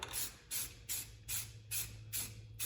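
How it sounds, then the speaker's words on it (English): Spray can hissing clear coat over a car engine bay, a Nissan 300ZX Z31 with an RB swap, in six even bursts about half a second apart, close and steady over a low hum. "we're just going to clear coat the rest of the engine bay"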